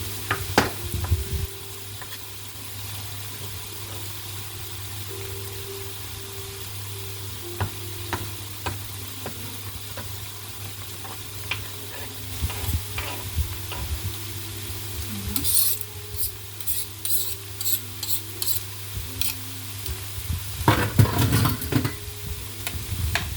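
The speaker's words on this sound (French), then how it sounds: "Je remélange à nouveau" Food with parsley sizzles steadily in a frying pan while it is stirred, with soft scraping and occasional clinks of the utensil, close and with no talk.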